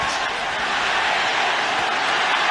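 A boxing arena crowd roars steadily for Alvarez in the Golovkin vs Canelo fight, a dense, continuous wash of cheering with no break.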